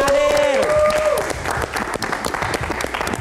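A studio audience at a live Indonesian talk show claps steadily for a few seconds, close and lively, with a brief sung or spoken tone riding over the start.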